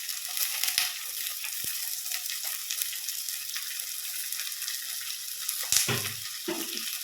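Two onions fry in a pan for a Palakkad-style chicken curry with ash gourd, a thin, steady high-pitched sizzle with a brief clatter of stirring near the end.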